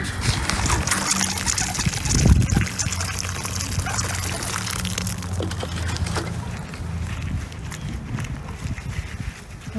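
Water trickles and pours steadily into potting soil for several seconds, a soft continuous splashing with a brief louder gush early on.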